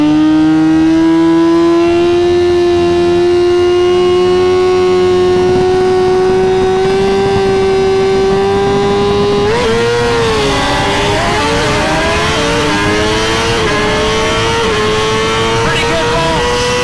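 A 2020 Suzuki GSX-R1000 sportbike being tested, its engine droning loud and close as it climbs steadily in pitch, then dips and wavers through a shift before pulling on.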